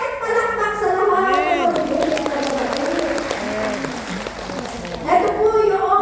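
A church congregation at a Sunday service bursts into sustained applause, dense clapping with some cheering, while a voice carries on speaking over it.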